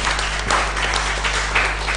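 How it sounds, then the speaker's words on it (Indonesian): An audience at a school olympiad final applauds the competition winners, a continuous, fairly loud wash of clapping under a steady low hum, with no talking. "Kita beri tepuk tangan kepada para juara."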